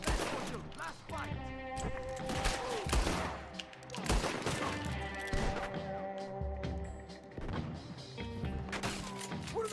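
Rapid, overlapping gunfire from a shootout in Red Dead Redemption 2 at Beecher's Hope, with loud bursts and sharp cracks running throughout amid clatter and impacts, with voices talking over parts of it.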